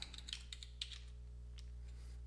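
Computer keyboard typing with irregular, quick, light clicks at close range over a steady low electrical hum, fading off after the first second or so, with nobody speaking.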